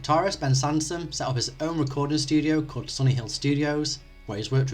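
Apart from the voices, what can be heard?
No distinct noise like a dog, phone or traffic.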